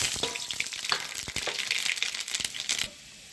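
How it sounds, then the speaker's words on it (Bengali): Panch phoron, black mustard seeds and dried chili hit hot oil with a crackling, spattering sizzle, close and steady, then cut off abruptly near the end. "তেলটা গরম হলে 5 ফোড়ন কালো সরষে আর শুকনো লঙ্কা নিয়েছি, এটা ফোড়ন দিয়ে দেব।"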